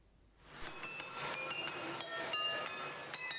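A German museum's model train runs along 2,840 wine glasses, striking them to play a melody: a rapid series of bright, ringing clinks over a steady rolling rumble, close and clear with no talk.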